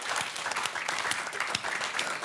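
A television studio audience applauding in a dense, steady wash of clapping hands, moderately loud and continuous, with a faint voice beneath it.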